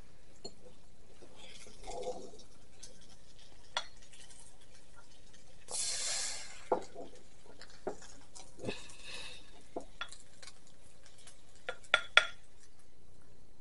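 Utensils scrape and clink against a dish while Mexican ground beef casserole is served, with scattered close metallic taps, a brief soft rustle, and a couple of sharper clinks near the end in a quiet room.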